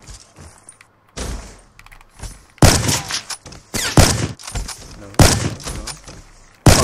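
Gunfire in Call of Duty: Black Ops 3, a 1v1 match against a CPU opponent: several loud, sharp bursts and single shots spread through the stretch, mixed with thumps and clatter, with a voice talking over parts of it.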